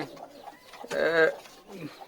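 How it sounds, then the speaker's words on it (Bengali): A pigeon coos once, a soft rolling call up close, with faint low murmurs before and after. "এই যে পায়রাগুলোকে দেখে নেন আগে এই যে এক জোড়া পায়রা"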